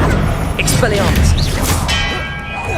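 The Expelliarmus disarming spell cast in Hogwarts Legacy rings out with bright metallic chiming and zipping tones over a dense rumble of game action, with a shouted voice beneath.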